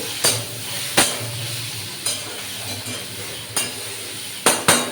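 Eggplant and vegetables stir-fried in a pan with very little oil, a low sizzle broken by sharp spatula knocks and scrapes against the pan every second or so, close by.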